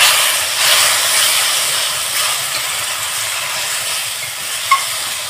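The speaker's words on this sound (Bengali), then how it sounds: "দেখুন দিয়ে টমেটো কেচাপের সাথে মশলা আমি ভালোভাবে মাখিয়ে নেব।" A steady hiss of spices and tomato ketchup being stirred together in a hot frying pan, loud and close, with a faint scrape near the end.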